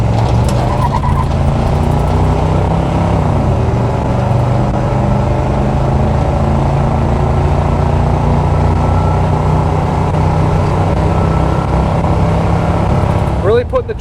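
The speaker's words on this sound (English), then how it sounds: "Really putting the truck through its paces," Original 350 engine of a 1978 Chevrolet C10 truck droning steadily while driving on a hot Texas day, loud and close with constant road and wind noise from inside the cab.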